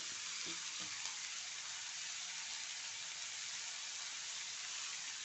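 Onions fry in a hot pan with a steady, loud sizzling hiss throughout, and a few soft stirring scrapes come near the start.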